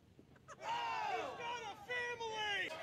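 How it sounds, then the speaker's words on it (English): A wrestling crowd reacts to the match with rising, sustained oohs and cheers in swelling waves, heard at a distance. "But you hear the crowds into it?"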